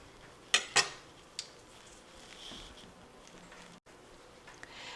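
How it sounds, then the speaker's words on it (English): Metal ice cream scoop clinking and scraping inside a halved winter squash while seeds and fibers are dug out, two sharp clanks early then a lighter tap, followed by soft quiet scraping. "The next thing you need to do is to scoop out the seeds and these fibers"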